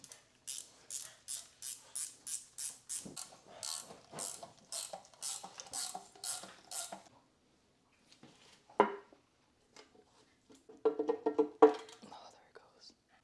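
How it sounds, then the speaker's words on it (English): Prying the oil pan off an SR20DET engine with a bolt gives a steady run of rhythmic metallic clicks, like a ratchet being worked, then a pause and a few sharper clanks and scrapes of metal near the end. "I believe this should pop the oil pan off without me having to struggle"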